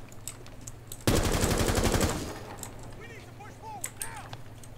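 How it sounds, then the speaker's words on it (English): Rapid automatic gunfire from Rainbow Six Siege, a loud dense burst of about a second of continuous shooting at cover, then quieter game sounds and faint chirps. "So what I'm gonna do is just shoot the cover."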